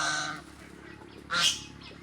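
A male goose gives a short, nasal honk partway through, with fainter goose calls and low background noise around it.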